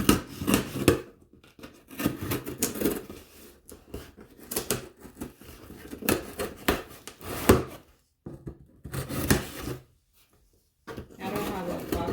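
Cardboard Amazon shipping box being opened by its easy-open tear strip, with bursts of ripping, scraping and rustling handled close by, broken by brief pauses and a moment of near silence; a person talks over parts of it.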